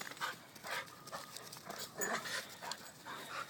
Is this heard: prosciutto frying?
no